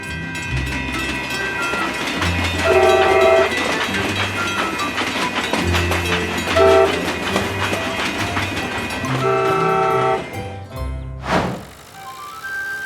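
A cartoon train pulling out with five wagons, its wheels thumping and clattering in a steady rhythm under bright music, the sound swelling and then ending in a short whoosh.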